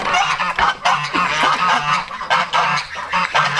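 Geese on a farm honk loudly and repeatedly at close range in a noisy overlapping chorus, with no talking.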